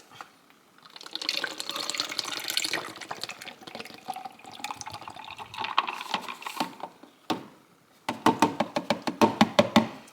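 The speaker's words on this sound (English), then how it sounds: "I'm going to pour this Premier protein in it" Premier protein shake is poured into a blender shaker over ice, a gurgling liquid stream that stops briefly, then returns as a series of quick sloshing, clinking bursts.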